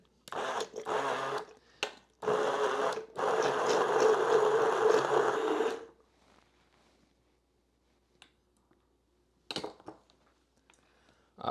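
An immersion blender blends salsa in short loud bursts, then runs continuously for a few seconds before stopping, followed by quiet with scattered clicks and knocks.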